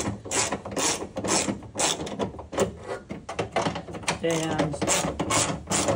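A ratchet tightens bolts on the tailgate lock of a Honda Ridgeline, giving repeated close, quick clicking strokes in uneven bursts with metallic rattles between them. A voice briefly speaks.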